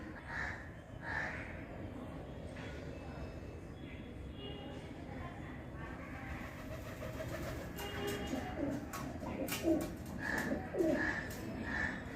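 Soft, low pigeon coos repeat a few times from a bird perched on a ceiling fan at a home in Kerala, faint against steady background hum and distant activity.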